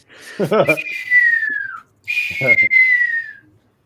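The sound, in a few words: whistled imitation of a bird call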